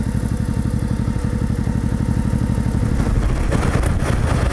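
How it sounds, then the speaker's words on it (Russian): A motorcycle engine idles steadily close by, a loud, even low-pitched thrum with a faint mechanical clatter and no voices. "Двигатель работает ровно"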